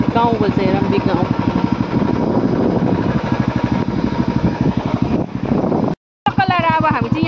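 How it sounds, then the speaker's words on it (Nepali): A motorcycle engine on a rural road, a low, rapid, pulsing rumble heard up close with voices over it, briefly cutting out near the end before resuming. "अब चाहिँ म यहीँ बाइकबाट झर्दैछु।"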